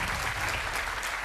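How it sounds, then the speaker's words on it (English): Studio audience applauding quiz show contestants, a dense, even wash of clapping that is loud and continuous throughout the short moment. "Give them a round of applause."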